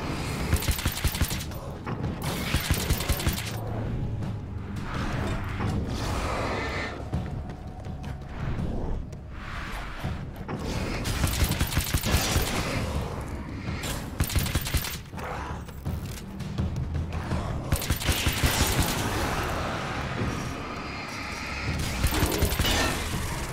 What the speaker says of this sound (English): God, the nail gun is too good.